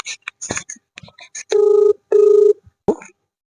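Phone call to a third number: two long, loud electronic ringback tones sound close on the line, set between short clicks and bursts of a voice.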